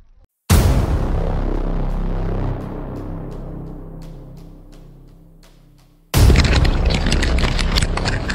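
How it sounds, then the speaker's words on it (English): A single loud, close explosion at Abbey Gate in Afghanistan in 2021 erupts suddenly, then rumbles and decays over several seconds before a second sharp, loud blast follows. "an explosion echoed throughout Abbey Gate."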